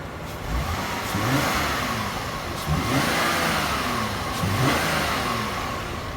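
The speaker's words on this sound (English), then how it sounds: "let's rev it up a little bit" A 2007 Volvo XC90 engine revs up in several swelling bursts, rising and falling over a steady running hum, fairly close.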